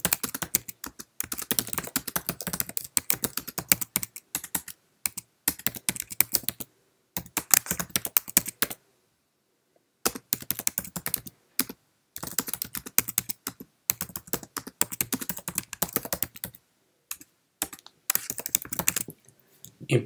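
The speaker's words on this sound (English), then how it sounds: "Let's just type a message." Typing a message on a Mac computer keyboard: steady bursts of close, crisp key clicks with brief pauses between phrases, no voices.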